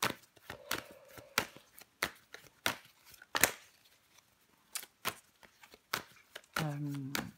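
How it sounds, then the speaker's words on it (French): Tarot cards are shuffled and flipped over, a string of crisp, close flicks and slaps with uneven spacing, while someone speaks briefly near the end. "On va recouvrir des cartes."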